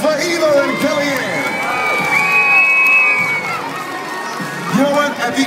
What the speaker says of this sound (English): How about a big round of applause for Eva and Kellyanne?